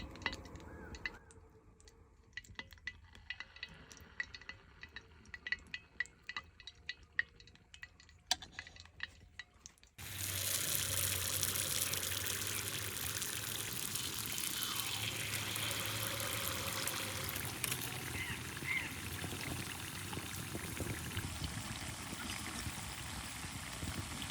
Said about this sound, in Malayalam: ഉണ്ണിയപ്പത്തിന് ആവശ്യമായ വെളിച്ചെണ്ണ ഒഴിക്കുക